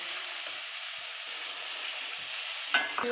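Potatoes frying in a pan with onion paste, ginger and dry chili powder, giving a steady bright sizzle and ending on a brief stirring clatter, with no talking.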